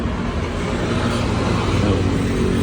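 A Ford car pulls away with a steady, rough engine drone, shuddering as it starts off after driving through flood water, with no voices over it.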